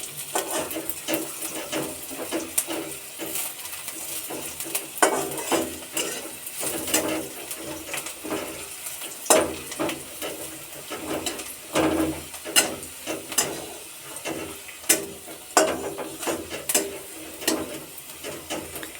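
A spoon scrapes and clatters against a pot as Bengali fish curry with potatoes is poured in and stirred, making irregular metallic knocks and rasps up close with no talking.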